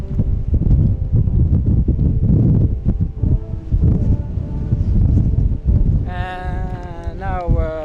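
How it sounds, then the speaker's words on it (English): Strong, gusty wind on a hilltop in southern Spain buffets the microphone with loud, rumbling surges that rise and fall, and a brief tonal whine breaks through near the end. "at the top now, and it's very windy"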